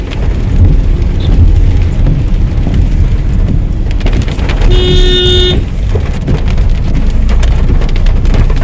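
Heavy rain drums loudly and evenly on a car out for a drive through wet streets, with traffic rumbling underneath and a short horn toot sounding midway; no one speaks.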